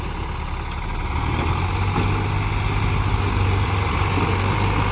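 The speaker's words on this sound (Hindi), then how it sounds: "पर भाई जोर मार रहा है क्योंकि फुल भरी हुई ट्रॉली, सबसे बढ़िया लेके गया ये ट्रैक्टर" A fully loaded tractor hauling a heavy trolley, from a four-tractor pulling contest, labours with a steady, loud low engine drone that holds throughout, strained and unbroken, with no voices.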